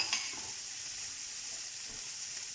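Scallops sear in a hot pan with a steady, even sizzle that holds at the same level throughout, with no voices.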